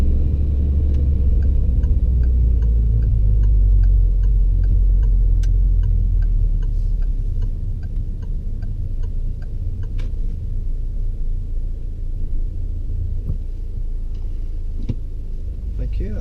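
Car engine idling during a mock driving test in Derby, a steady low rumble heard from inside the cabin, with a rhythmic indicator ticking over it throughout and faint incidental sounds, no speech.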